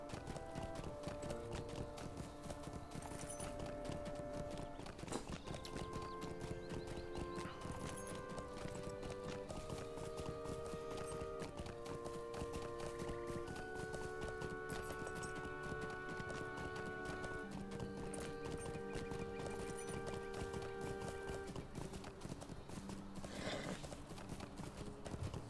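War steed hooves galloping in a video game, a quick, steady clip-clop that runs on throughout, with occasional whinnies and background game music.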